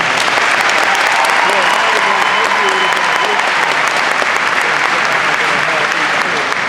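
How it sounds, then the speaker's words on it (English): Loud, sustained applause from a large crowd at a university graduation commencement, dense and even throughout, with faint voices mixed in. "please, a round of applause for all of them"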